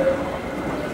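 Steady, low ambient rumble and hiss of the Basel train station in Switzerland, a continuous wash of noise with no distinct events or voices.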